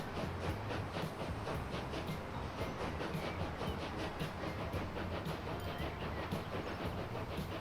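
Passenger train running in the video game Transport Fever 2, a faint steady rolling rumble with a regular clickety-clack rhythm of wheels over rail joints, continuing evenly throughout with no talk.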